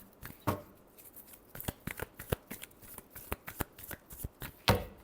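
Tarot cards shuffled by hand, heard close up as a brisk run of crisp slaps and flutters in an uneven rhythm, with no talking.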